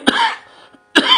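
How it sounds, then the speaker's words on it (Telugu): Two sharp, close coughs from a single person, separated by just under a second, each a harsh burst with a short raspy tail. "ఈ దగ్గు, గొంతు బాధ తగ్గల, చాలా ఇబ్బంది పెడుతోంది"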